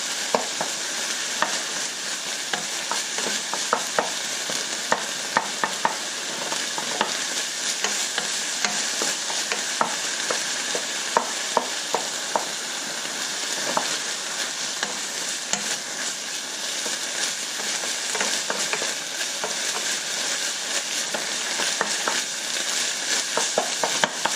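Ground meat sizzling and frying in a pan for tacos, with a utensil repeatedly scraping and breaking it up; a steady close crackle runs throughout with frequent sharp stirring ticks.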